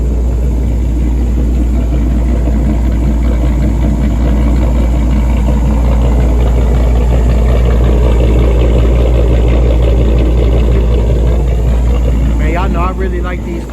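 A Dodge Charger police-style car with a Hemi engine and a slight cam idles with a deep, loud, continuous rumble nearby, while someone talks over it.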